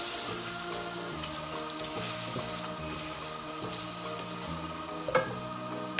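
Turmeric spice mixture cooking down to a paste in a pan, with a soft, steady sizzle and light rhythmic stirring scrapes recurring about once a second, fairly quiet and with no talk.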